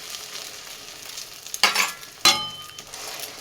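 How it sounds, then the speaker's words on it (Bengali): Beaten egg hits a hot pan for egg toast and is spread with a spoon. Two sharp sizzling bursts with faint scraping rise over a quiet background, then settle into a soft frying hiss. "এবারে ডিম দিয়ে দিচ্ছি, আর ডিমটা চামচ দিয়ে চারধারে ছড়িয়ে দেব, যাতে তাড়াতাড়ি ভাজা হয়ে যায়।"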